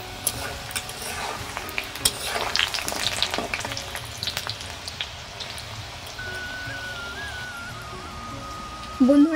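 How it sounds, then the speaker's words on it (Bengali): Biscuits deep-fry in oil over a low-medium flame, giving a soft, steady bubbling sizzle with scattered pops, fairly close, and a brief clatter at the end. "চুলার ফ্লেমটাকে লো টু মিডিয়ামে রেখে ভেজে নেব।"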